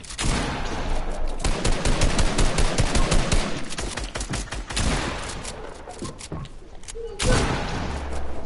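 Video game gunfire rattles in rapid bursts of loud shots and fades into scattered reports, with excited voices talking over the action.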